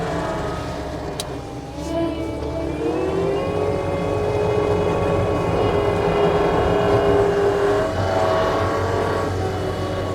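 A 2019 New Holland L220 rubber-tire skid steer loader back dragging, its engine droning steadily and loudly at close range with shifting hydraulic whine and a brief rattle early on, no talk.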